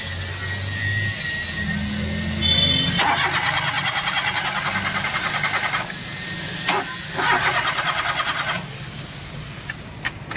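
A Maruti Suzuki Alto 800 petrol car with aftermarket CNG and a starting problem cranks on its starter in several long whirring bursts separated by pauses, with petrol not reaching the engine, and it never catches.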